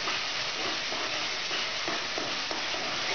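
Coriander sizzles steadily in hot oil for a Gujarati Kathiyawadi chhole masala, a close, continuous frying hiss broken by a few soft stirring scrapes.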